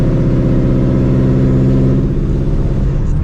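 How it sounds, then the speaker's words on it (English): A boosted V Mustang GT with loud exhaust holds a deep, steady droning rumble, close and continuous with rich low harmonics, and no talk over it. "Oh my god, my exhaust is so loud."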